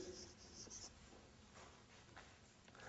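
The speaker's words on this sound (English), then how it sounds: "you always write like this" A pen writing script on paper: very faint, soft scratching and rubbing strokes, close up and quiet, in short irregular bursts.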